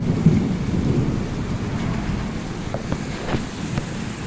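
Torrential monsoon downpour with thunder, a deep rolling rumble under the steady roar of rain on surfaces, with a few sharper drops or clatters near the end and no talking.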